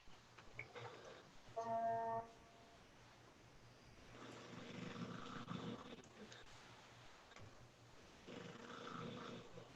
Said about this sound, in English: you guys can hear the dog snoring